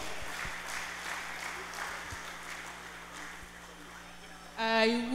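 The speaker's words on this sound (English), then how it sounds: "Please, a round of applause for her, please." Steady applause from the audience at a university birthday and retirement program, a sustained clapping wash under a faint voice and low hum, with a brief brighter musical swell at the very end.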